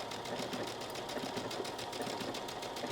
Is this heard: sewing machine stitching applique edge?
yes